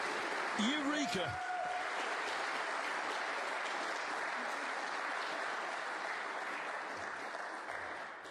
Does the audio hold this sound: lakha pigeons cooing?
no